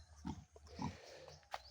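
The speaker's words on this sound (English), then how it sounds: "Oh look, and these, the pigs in there." Pigs kept in a pen in the Philippines give a few short, faint grunts and snorts in quick succession, close by and otherwise quiet.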